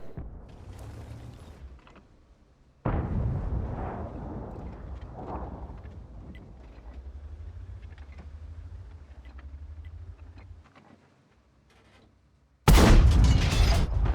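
Tank cannon blasts in a tank combat video game, one sharp boom early and another loud shot near the end, with engine rumble and mechanical clatter between them.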